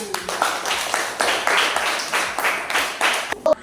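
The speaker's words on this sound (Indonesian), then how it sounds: "Yuk, kita beri tepuk tangan untuk kelompok 1." A class gives applause to a group of students, with several rhythmic rounds of clapping in steady bursts and a brief sound near the end.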